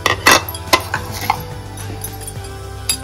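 Moong dal is mixed in a kadhai on a gas stove, a few sharp metal scrapes and clinks of the spoon over a light sizzle, close by and brief, without speech.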